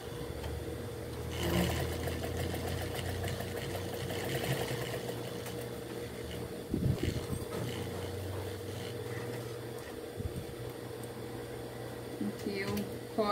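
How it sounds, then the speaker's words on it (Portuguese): A fast domestic sewing machine stitching a handbag, running steadily and slowly with a low whirring hum and faint knocks throughout, fairly quiet and close. "Eu tô indo devagar com a minha máquina, ela é muito rápida, então a gente vai com muito cuidado aqui pra poder costurar"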